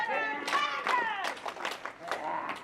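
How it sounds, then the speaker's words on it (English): A crowd at a wrestling match cheers and shouts in rhythmic, chant-like bursts, voices rising and falling in waves at a moderate distance. "This crowd getting behind Cutter."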